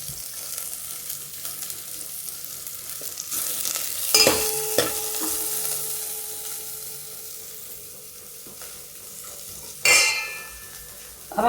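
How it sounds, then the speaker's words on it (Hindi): Cumin, green chili and ginger sizzling in a little oil over low gas for a dal palak tadka, a quiet crackle with a couple of sharper clinks and spatters, the second one near the end. "ये देखिए अब सब तड़कने लगेंगे"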